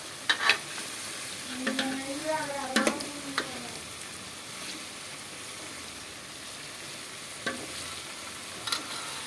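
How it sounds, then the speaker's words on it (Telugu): Broad beans fry in oil while being stirred, giving a soft continuous sizzle with occasional scraping and clattering strokes from the spoon, fairly quiet and close. "చిక్కుడుకాయ ఫస్ట్ ఆయిల్ వేసుకుని చిక్కుడుకాయని బాగా వేగే వరకు కలుపుకోవాలి"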